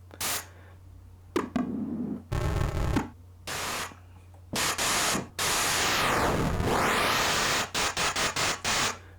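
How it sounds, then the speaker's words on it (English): A Korg Minilogue XD noise oscillator plays a series of hissing white-noise bursts, some short and choppy and one longer filtered sweep that rises and falls. The bursts are loud and close, with no talk. "one of the ways I usually like creating a fill is having a noise sweep into the next section"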